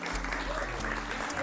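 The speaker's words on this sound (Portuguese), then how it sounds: "Mais altas palmas." A television studio audience claps for a young performer coming on stage during a Mozambican variety show, with steady loud applause mixed with music and voices throughout the short burst.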